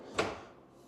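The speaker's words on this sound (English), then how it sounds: "Soft closing cabinets." A soft-closing cabinet drawer with dovetail joints slides shut inside a house for sale, a single faint, brief swish and muted close that then trails off into quiet room tone.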